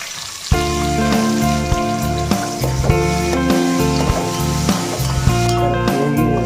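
Ingredients sizzle steadily in hot oil for mixed biryani, a loud close frying hiss with scattered pops and stirring clinks, while music plays over it throughout.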